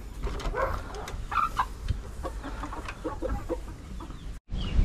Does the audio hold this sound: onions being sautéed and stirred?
no